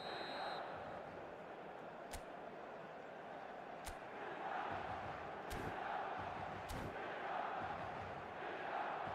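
Steady roar of a stadium crowd in a football video game, continuous and fairly faint throughout, with a few sharp bangs and thumps cutting through.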